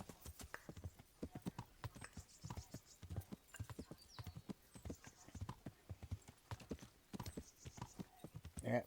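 Steady clip-clop of horse hooves at a walking rhythm in the video game Kingdom Come, fairly close and soft, continuing throughout with a brief snort near the end.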